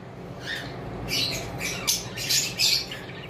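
Harsh, raspy squawks from lutino and whiteface cockatiels come in several short bursts over a soft background hiss, fairly close and loud.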